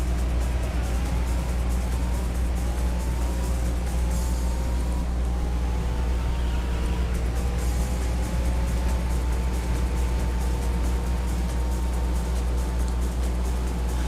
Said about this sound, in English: this car has the worst motor